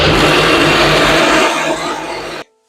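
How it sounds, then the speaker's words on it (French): A blender whirs at full power, grinding soaked soybeans into a runny paste for homemade tofu. The loud, continuous roar shifts slightly in pitch, then cuts off abruptly into silence. "Et donc, c'est parti, on va mixer."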